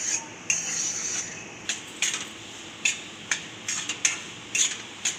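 Moong dal stirred and roasted in a pan for moong dal halwa, a spoon scraping the metal in a string of sharp, irregular clinks and scrapes over a soft sizzle, close and moderately loud with no talk.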